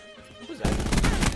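Shotgun fire in the video game Black Ops 4 erupts as a loud, dense burst of rapid blasts that runs to the end, following a quieter stretch of game noise.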